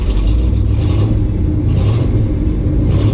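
A 1969 Ford F100 pickup truck engine revs loudly and rumbles as the truck pulls away, a steady, close, low drone that holds for the whole stretch with no talking.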